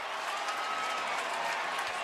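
Football stadium crowd at Commonwealth Stadium during a Kentucky–Georgia game, a distant steady roar of cheering that stays even and fairly faint for a couple of seconds.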